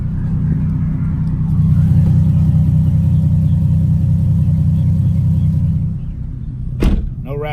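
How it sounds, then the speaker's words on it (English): A Nissan 370Z fitted with a Greddy aftermarket exhaust cruises along, its low steady engine drone and exhaust rumble heard from inside the cabin, swelling slightly mid-run, then easing, with a brief sharp knock near the end. "Car sounds fine."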